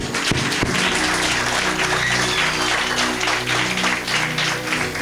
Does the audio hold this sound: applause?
yes